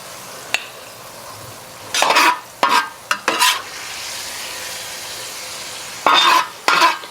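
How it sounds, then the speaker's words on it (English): Cooked food is scooped out of a FireDisc cooker into a serving bowl: loud scraping strokes in bursts, two early clusters and a final pair, over a quiet background hiss, close up with no voices. "I'm going to scoop this into a bowl for serving"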